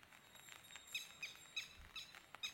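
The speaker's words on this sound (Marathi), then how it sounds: "पक्ष्यांचा किलबिलाट" Small birds chirp in evening village fields in Konkan, giving short bright tweets repeated about every third of a second over faint insect buzz and soft background hiss.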